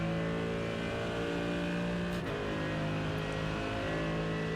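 A Mercedes GT3 race car engine in a racing video game on the Road America circuit, a loud, steady engine drone under acceleration that holds close and constant, with a brief dip partway through.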